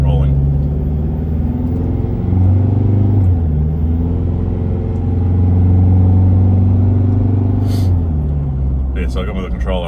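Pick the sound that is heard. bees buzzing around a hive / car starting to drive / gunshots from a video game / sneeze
car starting to drive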